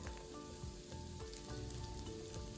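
Ginger and garlic hit hot oil in a pan for peanut curry chicken, giving a quiet, steady sizzle with faint crackles and no voices.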